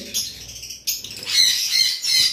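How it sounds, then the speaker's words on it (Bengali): Double red factor yellow-sided conures in a bird shop give sharp, high squawks and chirps, loud and close, with brief pauses between bursts and no talking. "এখানে দেখতে পারতেছেন double red factor yellow sided কোনো রয়েছে"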